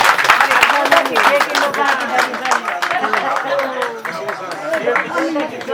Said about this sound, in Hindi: तो जोरदार तालियों के साथ स्वागत कीजिएगा दिनेश जोशी जी का